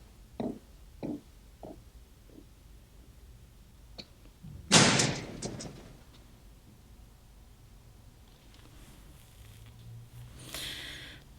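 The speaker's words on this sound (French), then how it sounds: "vous l'avez entendu claquer le truc là, la porte là" A door slams shut in the PS5 demo of the horror video game Maiden, one loud, near bang with a short clattering tail, set among quieter scattered knocks and a low ambient hum.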